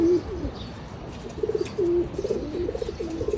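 Pigeons coo in soft, repeated low throaty calls, a steady series of burbling notes close by with no talking.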